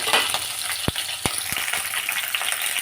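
Green chillies, mustard seeds, cumin, bay leaves, star anise and cinnamon sizzle in hot oil for a Rayalaseema-style boti curry, a steady close crackle punctuated by a few sharp pops and spoon clicks against the pan.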